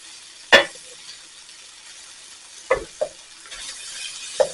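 Bacon fried rice with thawed peas sizzles steadily in a hot pan while a wooden spoon stirs and flips it, giving a few sharp scraping taps over the constant hiss.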